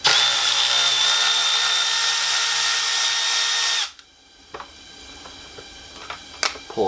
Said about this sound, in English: We're also going to pop out the nut that's holding the fan.